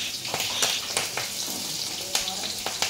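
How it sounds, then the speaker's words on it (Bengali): Four green chillies and black cumin tempering in hot oil, a soft steady sizzle with a few faint crackles, fairly quiet and close, no voices. "এই কাঁচা লঙ্কা 4টে ফোড়ন দিয়ে দিলাম"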